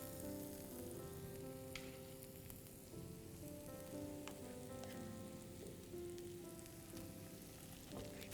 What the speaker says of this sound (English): Now to this I'm going to be adding my mashed beans